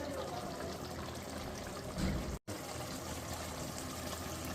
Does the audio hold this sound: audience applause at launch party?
no